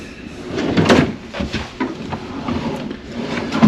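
A small refrigerator door in a Celebrity Beyond cruise cabin opens and shuts, giving a few soft close-up clunks and a muffled thump with brief rattling, no voices over it.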